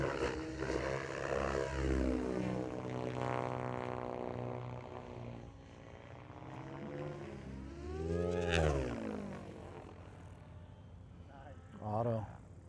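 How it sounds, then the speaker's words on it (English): A radio-controlled helicopter flies knife-edge passes at a TORCHS flying event, its rotor and engine drone holding steady, then swelling loudly twice as it sweeps past close by. "Proof you can knife edge a helicopter."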